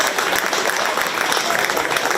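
An audience at a 4H swine show at the 2023 Shelby County Fair claps in a loud, dense burst of applause that holds steady for about two seconds.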